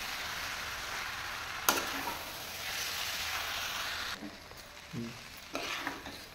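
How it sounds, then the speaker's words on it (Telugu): Masala noodles fry in a pan while being stirred, a steady close sizzle broken by several soft scraping and clinking stirs, with no talking. "చూడండి, ఇట్లా మంచిగా కలుపుకోవాలి"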